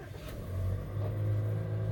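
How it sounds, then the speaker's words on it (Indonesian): Toyota Kijang Innova Zenix G gasoline engine starting at the push of a start button, rising from a low rumble into a steady, smooth idle drone, close and alone. "Kita dengerin suara mesinnya ya."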